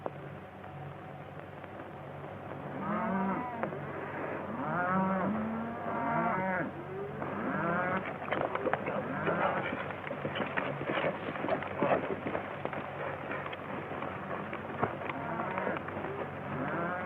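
Several cattle moo repeatedly, overlapping one another, with a steady low background rumble throughout.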